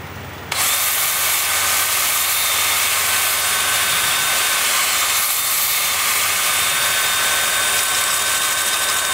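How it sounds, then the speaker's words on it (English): A wood lathe spinning at about 380 rpm kicks in after a short quiet moment and holds a loud, continuous motor whir with a broad airy rush, steady and close throughout. "Lathe is spinning at about 380."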